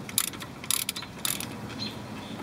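A hand ratchet backs out a brake caliper bolt, giving three short bursts of fast metallic clicking close to the mic over a quiet background, each burst separated by a brief pause.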